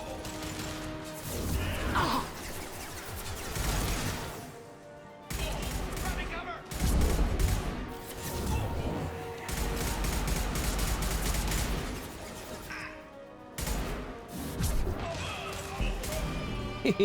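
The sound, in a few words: gunfire while shooting an enemy Turian in the video game Mass Effect 2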